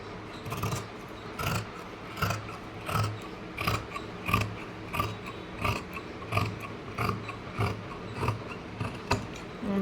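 Tailoring scissors cutting blouse fabric in a series of regular, crisp snipping strokes, close up and fairly quiet, with no talk.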